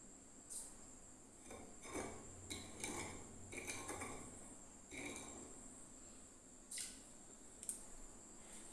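Teaspoons of sugar spooned out with metal spoons, giving several light clinks and scrapes of cutlery against dishes in a quiet room, spaced irregularly with faint background hiss.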